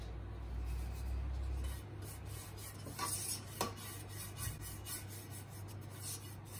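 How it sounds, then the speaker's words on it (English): Pizza dough being spread and pressed by hand into an oiled baking pan, a soft, close rubbing and scraping that comes and goes against a low steady hum. "I just spread this pizza in this pan and now I can press the edges."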